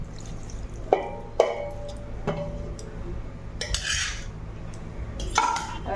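Chicken gravy is ladled into a pot: a few sharp metal clinks of ladle against pot, a soft splash, then quiet kitchen background, with no one speaking.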